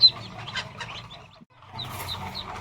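A broody mother hen clucks repeatedly up close, short throaty notes in two bursts separated by a brief pause.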